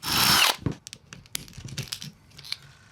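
Power drill with a bit boring into material while fitting new transformers, a loud half-second whine at the start that cuts off, followed by scattered scraping, ticks and handling noises nearby.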